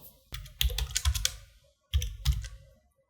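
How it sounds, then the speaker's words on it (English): Typing on a computer keyboard, two quick bursts of close, crisp key clicks separated by a short pause. "click over here and type anything whatever you want"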